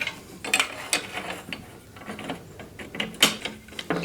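Metal clicks and ratcheting taps as a bolt is threaded through a plate on a Granberg EZ Rail milling rail system, several sharp close knocks in irregular rhythm over low handling noise.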